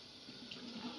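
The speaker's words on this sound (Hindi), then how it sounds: "अब मैं इनका पानी डालूं" Water pours in a faint, steady stream into curry simmering in a pot on a home kitchen stove, a soft continuous splash and hiss with no talking.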